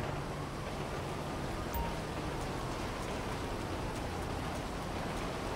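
Steady rain falling in the video game Grand Theft Auto V, a constant soft hiss of drops with no other distinct sounds.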